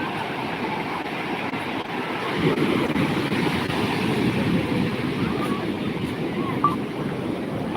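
Sea waves roll onto a beach where local boys swim, a broad rumbling surf that swells louder midway and continues steadily, with faint voices under it.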